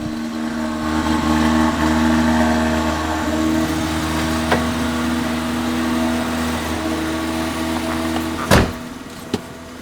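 A Mazda RX7 FB rotary engine running steadily after starting in a smoke-filled garage, a loud continuous droning idle with a strong low hum, broken near the end by a sharp knock or clunk.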